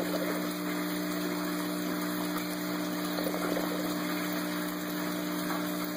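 A short ABS bell siphon with a 1-inch to 1/2-inch pipe drains water, a steady gurgling, pump-like rush with a constant hum underneath, moderately loud and unbroken.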